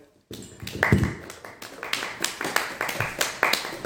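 A small audience claps after a comedian's stand-up set, scattered, uneven hand claps starting abruptly and continuing at a moderate, close level without talk.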